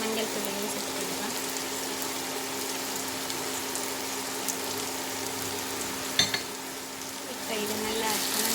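Snake gourd stir-fry with coconut milk, chili powder and turmeric simmering and sizzling steadily in a pan while being stirred, with a brief clatter of utensil contact partway through.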